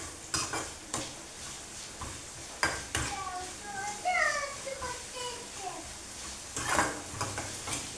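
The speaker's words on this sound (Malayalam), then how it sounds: "അങ്ങനെ സവാളയൊക്കെ വഴണ്ടി വരുന്നുണ്ട്." Onions are sautéed in a pan, with a utensil clinking and scraping against the cookware in irregular knocks over a soft, faint sizzle, while voices speak nearby.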